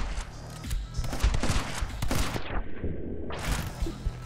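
Shotgun blasts from the video game My Friend Pedro, a rapid run of loud punchy shots mixed with game effects, then a brief lull before the noise returns.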